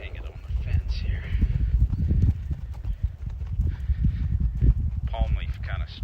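Horse hooves while loping during a schooling ride on a left-lead dominant horse, rhythmic clip-clop thuds repeating steadily throughout, close by, with some wind or rider noise around them.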